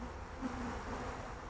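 Honey bees buzz at an open hive, a faint steady drone of many wings with a brief louder hum from one bee passing near.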